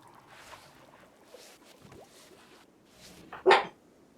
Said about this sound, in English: It's time to bark.